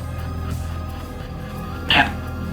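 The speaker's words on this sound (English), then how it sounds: "That's a dog." A dog in a house barks once, short and fairly close, over a steady low background hum.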